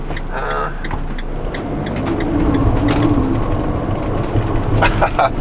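Cars pass along a snowy road during a storm, their engines and tyre hiss rising and fading nearby while a person talks over the traffic.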